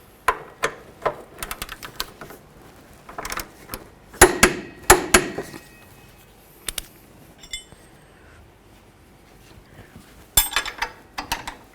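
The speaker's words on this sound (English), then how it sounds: "So let's torque this top bolt to 80 foot-pounds." Metal clicks and clanks from a torque wrench tightening the top rear shock bolt on a 2008-2012 Jeep Liberty come in irregular bursts of sharp ratcheting taps separated by short quiet gaps.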